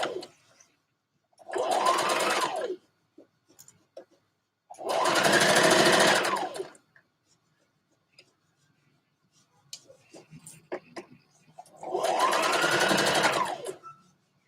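Sewing machine stitching a dress sleeve runs in three separate bursts of rapid, close whirring, with quiet gaps and light handling clicks between them.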